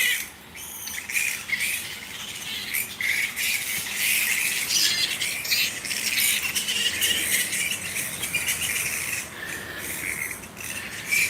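Thousands of flying foxes roost along a creek in Picton, New South Wales, filling the air with a dense, continuous chorus of shrill screeches and squabbling squeals at moderate distance.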